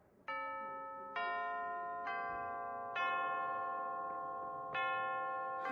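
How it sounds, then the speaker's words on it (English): A school bell chimes several times in a slow, evenly spaced series, each tone bright and ringing with a long sustained decay, loud and alone with no talk over it. "That's the bell."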